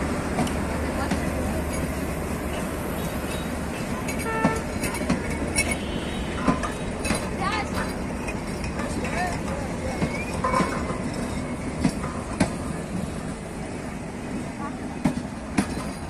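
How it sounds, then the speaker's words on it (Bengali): A passenger train pulls out of Talma station after a brief stop, producing a steady, loud rumble with scattered metallic clanks and rail clicks throughout, while indistinct voices murmur in the background. "দেখতে পাচ্ছ তালমা স্টেশনে যাত্রা বিরতি করার পর ট্রেনটি এখন চলে যাচ্ছে"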